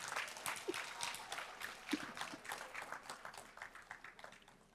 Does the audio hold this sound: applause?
yes